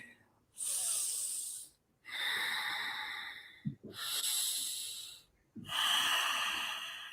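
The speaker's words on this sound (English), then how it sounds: "So now coming to Anulom Vilom, alternative nasal breathing." Alternate nostril breathing, Anulom Vilom pranayama: four slow, airy nasal breaths, each a long hissing inhale or exhale, with short quiet gaps between them and close, clear breath sound.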